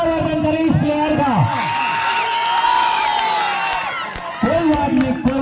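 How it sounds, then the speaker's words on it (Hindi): A crowd at a kabaddi match cheers and whoops for a player, a steady roar of voices with some clapping running through, while an announcer talks loudly over it through a PA. "एक बार जोरदार उत्साहवर्धन करें इस प्लेयर का।"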